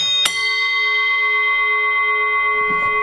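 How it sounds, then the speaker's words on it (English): A single sharp strike on a vintage Bermuda bell from a load of old Packard parts, followed by a long, bright, ringing decay with steady overtones; a faint clunk near the end. "Bermuda bell."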